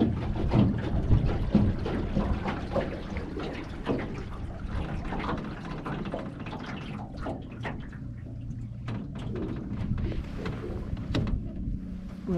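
A 45-pound-thrust Minn Kota electric trolling motor pushes a drift boat, giving a low steady hum under water lapping and splashing against the hull, fairly close and continuous, with no voices.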